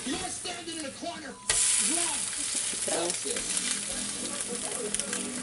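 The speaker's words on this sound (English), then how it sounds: "now guys, we're gonna flip this egg" An egg fries in a pan after being flipped: a voice talks at first, then a loud sizzle bursts up suddenly and keeps crackling steadily.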